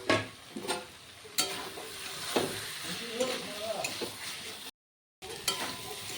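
Soybean chunks and fried potato sizzling and stirred in a pan, a steady hiss with scraping clatters of a spoon, moderately close, with a brief dropout near the end.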